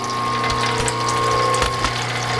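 A Wadkin RM power feed runs at its slowest speed, producing a steady, close mechanical drone of turning gears with a faint repeating ratchet-like clicking throughout.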